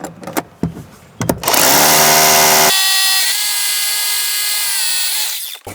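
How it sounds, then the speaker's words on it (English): An SDS drill bores into concrete outdoors. A few sharp knocks come first, then the drill howls loud and high, eases to a steadier whine and winds down at the end. "As you can see, an SDS drill absolutely zips through concrete."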